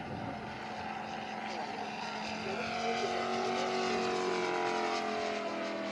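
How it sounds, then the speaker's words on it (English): Sea Fury model plane with a Moki five-cylinder radial engine flying past, a rich buzzing drone whose pitch climbs and then bends downward as it passes, with a voice talking over it. "Beautiful sound coming out of that Sea Fury. Again, another one of those Moki five-cylinder radial engines."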